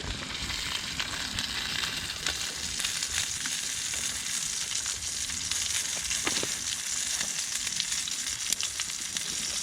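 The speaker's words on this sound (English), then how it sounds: "the steak is sizzling away nicely." Steady, crackling sizzle of steak frying in a hot titanium pan, continuous and close, with occasional louder pops and spits, inside a hot tent with a stove during winter camping.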